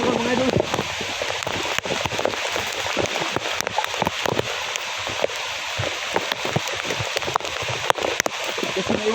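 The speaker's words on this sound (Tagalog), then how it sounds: "Sobrang lakas ng ulan" Heavy rain pours steadily and loudly outdoors, a dense continuous hiss with a few sharper drop impacts, while someone talks over it.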